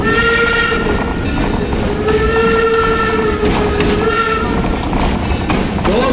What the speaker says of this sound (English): It's a coal-fired steam locomotive built way back in 1873 at the Mason Works in Taunton, Massachusetts.